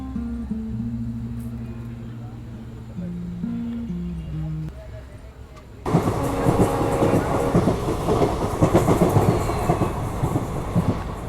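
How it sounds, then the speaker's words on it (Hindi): A Gandhigram–Botad passenger train being overtaken by another train: quieter rolling rumble with passing tones at first, then a sudden loud, dense roar of wheels and clatter close by that continues to the end. "और ये थी गांधीग्राम बोताड पैसेंजर ट्रेन, जिसको अभी हमने ओवरटेक किया।"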